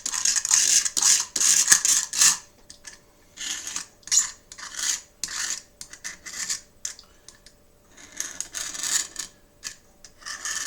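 Debris scraped out of a floor tile gap with an X-Acto knife during peel-and-stick tile replacement: repeated short, dry rasping strokes, close and fairly quiet, with brief pauses between.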